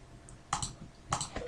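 Computer keyboard typing while entering an IP address, a few light clicks in two short clusters, near and fairly quiet with no talk.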